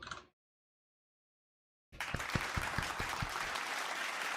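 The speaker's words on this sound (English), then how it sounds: "Wow, that's some loud applause right there." Loud applause and cheering from a group for a teacher, starting abruptly after a short silence and continuing as steady, dense clapping with scattered sharp claps.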